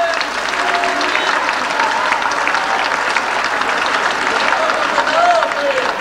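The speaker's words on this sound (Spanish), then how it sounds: "Un aplauso para la señora de Offer" A large crowd at a 1988 human rights anniversary event applauds for a woman, a dense, continuous roar of clapping with some background voices mixed in.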